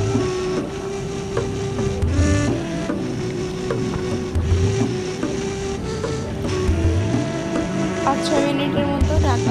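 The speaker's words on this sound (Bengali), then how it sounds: "ঢাকনা খুলে এভাবে নাড়তে থাকবেন" Spoon stirring coconut pitha mixture of wheat flour and coconut in a pan, repeated scraping strokes in a steady rhythm with a soft sizzle and hum underneath.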